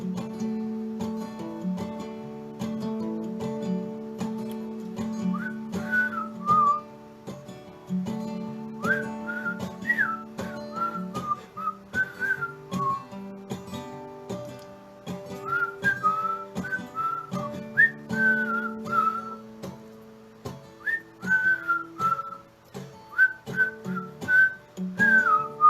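Someone whistles a tune alone, with short melodic phrases and pauses, fairly quiet and close.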